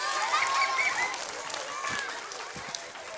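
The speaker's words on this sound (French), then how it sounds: "je vous demande d'applaudir notre grand cuistot" An audience at a live family show on food waste applauds the cook character, a moderate wash of clapping mixed with excited voices and a few high calls.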